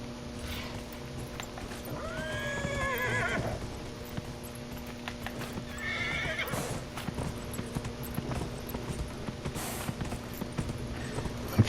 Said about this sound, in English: We'll just go jump back on our horse.